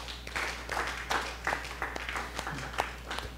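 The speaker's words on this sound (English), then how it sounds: "let's all stand up, give the Lord a clap offering" A church congregation stands and applauds in a clap offering, a dense wash of many hands clapping steadily with a few louder individual claps, under faint voices.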